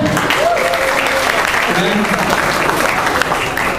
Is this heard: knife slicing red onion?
no